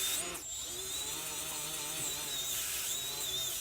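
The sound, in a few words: roll-lock disc cleaning a differential cover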